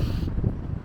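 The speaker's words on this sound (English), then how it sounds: "It's bloody windy, it's hard work." Strong gusty wind buffeting the microphone outdoors during a run into a headwind, a loud low rumble throughout with no voice.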